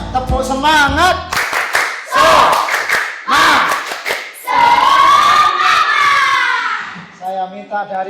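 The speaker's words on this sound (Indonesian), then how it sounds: "Suaranya, tepuk semangat." Schoolchildren in a classroom do a rhythmic group spirit clap, sharp claps alternating with loud chanted shouts from the group, close and energetic.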